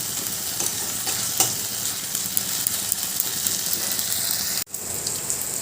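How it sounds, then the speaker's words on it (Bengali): Pointed gourd mixed with poppy seed paste is stirred and fried in a pan, giving a steady close sizzle with scraping stirs and a brief sharp clatter near the end, no voices. "এবার সব কিছু ভালো করে মিশিয়ে নেবো পোস্ত বাঁটাটা পুরো পটলের সাথে ভালোভাবে মিশিয়ে রান্নাটা করতে হবে"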